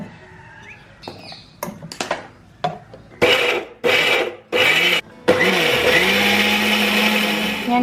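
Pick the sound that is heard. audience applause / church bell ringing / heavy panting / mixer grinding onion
mixer grinding onion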